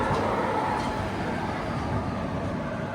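The Aronai Express, hauled by a single WAG7 locomotive, rolls slowly along a loop track at about 15–20 km/h, producing a continuous low rumble of wheels and carriages with no talking.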